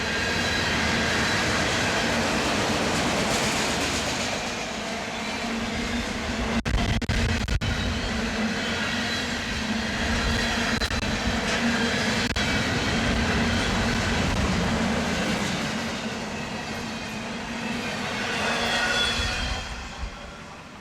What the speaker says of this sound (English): but hey, it's an auto rack train.